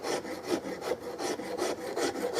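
A hand file rasps across the metal of a Carl Stiegele 16-gauge side-by-side shotgun in even back-and-forth strokes, about two per second, close and steady.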